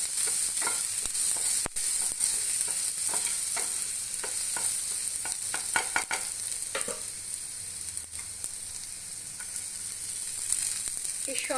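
Chopped onion hitting a hot frying pan, giving a steady bright sizzle close up, broken by sharp utensil taps and stirring scrapes throughout.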